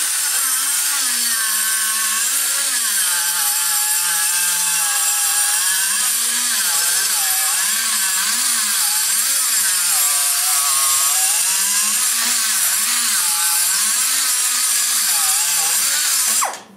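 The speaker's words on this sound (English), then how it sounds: "we're going to use the straight cutter and go in here and terrorize it" A router with a straight cutter bit machines the aluminum intake port of a 2013 LS3 head. The whine is loud, continuous and high-pitched, with the pitch wobbling as the cut loads and eases, then it stops abruptly at the end.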